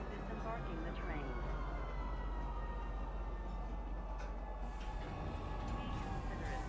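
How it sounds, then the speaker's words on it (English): In-game train pulling into a spaceport in Star Citizen, with a steady, dense rumble and long whining tones throughout and a few brighter electronic tones near the end. "Now arriving, Pizza Spaceport. Please watch your step when disembarking the train."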